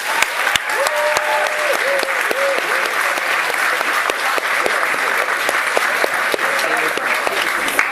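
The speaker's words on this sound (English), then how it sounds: "can we just give a round of applause to all the speakers involved in this?" Sustained applause from an audience at a university debating society event, applauding the debate speakers; dense, steady clapping fills the room at even loudness throughout, with no speech over it.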